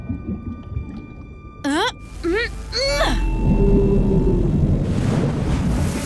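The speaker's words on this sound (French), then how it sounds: "J'ai fait peur à une baleine grise et elle t'a soufflé par son évent." In an animated show, a gray whale gives a few rising calls, then blows through its blowhole in a loud, sustained, breathy whoosh that continues to the end.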